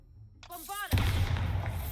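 A short voice is followed by the loud, booming blast of the Bombarda spell in Hogwarts Legacy, trailing into a rumbling low tail that fills the rest of the moment.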